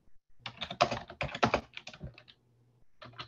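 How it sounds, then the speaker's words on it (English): Rapid clattering keystrokes on a computer keyboard in bursts, close and clear, with a low steady hum underneath and a brief pause before typing resumes. "Here's some keyboard work."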